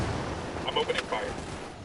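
Gunfire in the Ghost Recon Wildlands video game, a few quick muffled shots close together over a noisy game background, with speech-like game audio mixed in.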